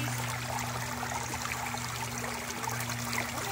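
Steady rushing water flows through a gold-prospecting sluice set in a creek, a continuous broadband wash with a low hum beneath it, heard alone without talk.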